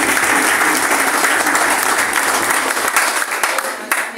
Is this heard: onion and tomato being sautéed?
no